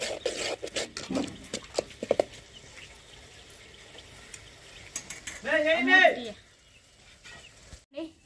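A cooking pot of fish curry gets its lid put on, giving a brief metallic clatter and scrape after a stretch of quiet kitchen clinks, close by.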